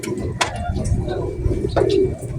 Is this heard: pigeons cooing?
yes